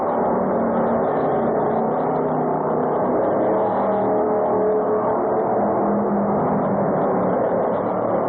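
A race car at a speedway enduro race roars at close range, accelerating with a loud, continuous engine drone as it rejoins the track from the pits. Crowd and track noise sit underneath, with no talk audible over it.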